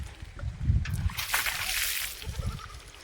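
Water sloshes and splashes in uneven bursts, poured at a home during a cattle Pongal celebration, with a steady trickle and gurgle and faint voices in the background.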